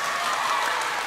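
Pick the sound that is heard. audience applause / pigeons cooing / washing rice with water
audience applause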